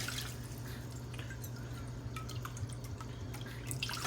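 Apple cider vinegar with 5% acidity drips and trickles into a measuring cup, a light, close, steady patter of small splashes over a low background hum, with no talk.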